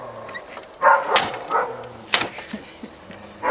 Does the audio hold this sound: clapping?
no